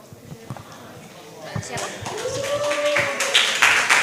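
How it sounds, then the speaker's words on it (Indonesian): Audience applause at a student presidential debate, after a question is asked; a few scattered claps build into fuller, louder clapping, with talk over it. "Tepuk tangan yang luar biasa untuk pertanyaan dari Mbak Sutrisni"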